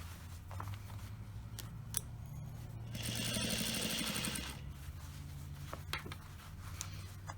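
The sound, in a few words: sewing machine stitching a jean hem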